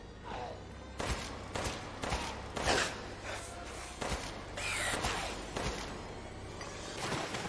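Gunshots ring out in a Free Fire video game match, a run of sharp bursts scattered irregularly over several seconds, with no voices.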